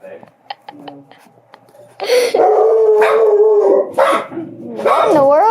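A puppy yips and barks in short bursts, then breaks into longer, wavering howls that rise and fall up close, with people talking indoors between the cries.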